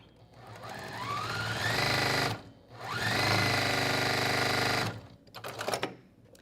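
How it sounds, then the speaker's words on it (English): A sewing machine stitching quilt block pieces runs in two steady, close whirring bursts of about two seconds each, followed by a few light mechanical clicks. "So I'm just going to sew these together"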